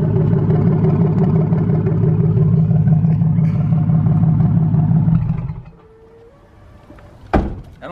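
A diesel engine in a cheap $300 pickup truck build with a new exhaust tip runs with a steady low throb for about five seconds, then shuts off, leaving near silence broken by a single sharp clunk.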